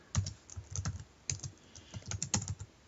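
Someone typing on a computer keyboard while writing code, short bursts of close, crisp key clicks with brief pauses between them.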